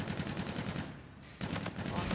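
Rapid rifle fire from the NV4 in Call of Duty: Infinite Warfare, two fast bursts of sharp shots separated by a short pause, close and loud with a voice faintly underneath.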